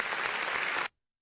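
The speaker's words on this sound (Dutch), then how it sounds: "Groot applaus." A burst of studio audience applause on a Dutch morning show, full and even, then it cuts off abruptly into silence.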